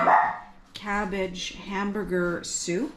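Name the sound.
dog barking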